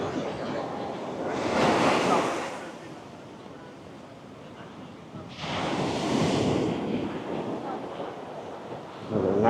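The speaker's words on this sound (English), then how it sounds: "Look at those waves." Ocean waves break and wash up on Balangan Beach in Bali in two big surges, with wind buffeting the microphone between them.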